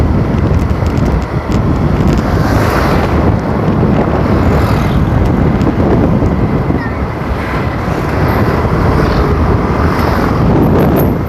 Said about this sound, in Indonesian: gerimisnya sebenarnya cuma pelan-pelan, tapi karena ada angin kayak jadinya kayak hujan gitu loh